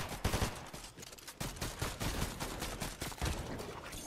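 Dense automatic gunfire from a Fortnite match: rapid overlapping bursts and single shots that fire almost without pause, loud and continuous throughout with no talking.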